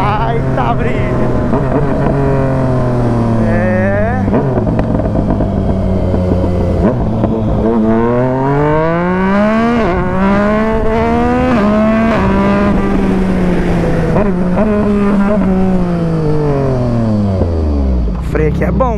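A 2022 Yamaha MT-09 motorcycle on a highway, its engine note loud and close, climbing and dropping in pitch as it revs through the gears, with steady wind rush throughout.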